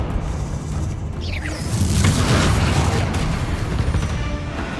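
A Confringo fire spell explodes in the Hogwarts Legacy video game, a broad roaring blast that swells up around two seconds in and rumbles on steadily over a dense game background to the end.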